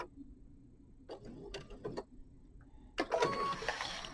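A sewing machine stitching quilt binding, with a few short separate clicks and whirs, then a louder burst of stitching near the end, fairly close and without talk.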